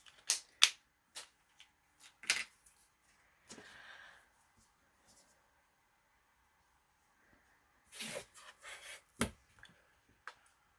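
A sharp blade cuts through material at a woodworking bench, with scattered dry clicks, scrapes and short rasping strokes separated by quiet gaps.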